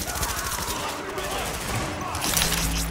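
Sustained rattling automatic gunfire from The Division video game plays fairly quietly under continuous chatter, a steady stream of shots with no clear pauses.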